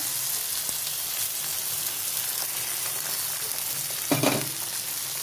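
An egg fries in a pan with a constant soft sizzle and crackle. There is a brief louder spatter near the end.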